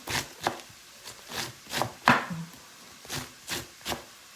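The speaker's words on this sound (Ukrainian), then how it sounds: "І так ми всю капусту мусимо насікти." Cabbage being chopped finely by hand with a knife, a steady series of about ten sharp, close chops spaced roughly half a second apart, with no talking.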